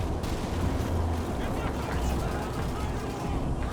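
Muffled, dulled gunfire from shell shock in Call of Duty 2 blends into a steady low rumble, with distant thumps pressed under a dense, smeared battlefield roar.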